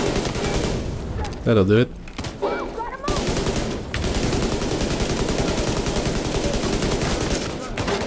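Sustained automatic gunfire fills a firefight in The Division 2: Warlords of New York at Two Bridges, a loud continuous rattle of shots briefly broken by a pause, with a player talking over it.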